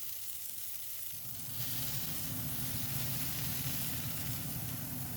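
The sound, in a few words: burger patty sizzling in a hot oiled pan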